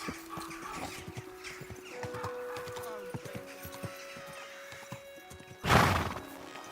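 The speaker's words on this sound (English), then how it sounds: "Easy, good horse." A horse lets out a sharp, loud whinny near the end in the video game Kingdom Come: Deliverance 2, preceded by steady hoof clip-clops and plucked string music in the background.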